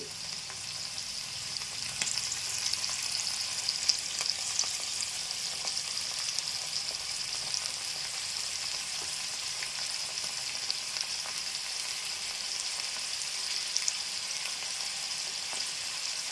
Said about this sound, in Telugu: చక్కగా ఉడుకుతున్నాయి చూసారా ఆ రకంగా నూనెలో ఉడకపోవాలి మెత్తగా